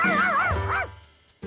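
A cartoon dachshund in a Danish children's show gives a short, high, whiny bark that bends up and down in pitch, then falls quiet before a brief click at the end.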